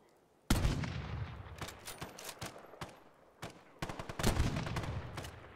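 Rapid bursts of gunfire from a heavily modded Fallout 4, sharp loud shots in uneven volleys with short gaps, some in quick clusters.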